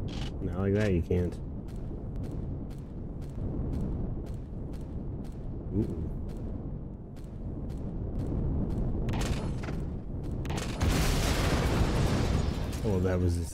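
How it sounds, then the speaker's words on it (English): A cannon turret is destroyed in Empyrion Galactic Survival, with a string of sharp rhythmic pops and booms building to a loud, sustained blast near the end, while a person talks over it. "Oh, that was a satisfying explosion."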